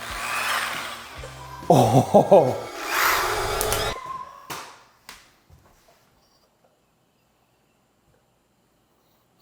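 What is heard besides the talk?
power drill spinning an egg in pantyhose to scramble it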